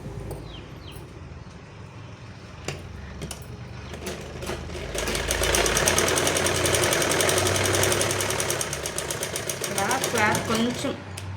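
A sewing machine stitching the side seam of a cloth skirt, its steady mechanical whir and needle chatter building and running continuously at close range, with background noise and talk around it.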